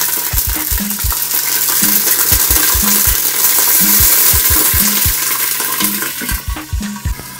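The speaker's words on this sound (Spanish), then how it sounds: "ya que está bien caliente mi aceite, con cuidado voy echando mis camarones" Shrimp being added by hand to very hot oil for shrimp fried rice, frying with a steady loud sizzle close up, broken by repeated short knocks and clinks of utensils being stirred through the pan.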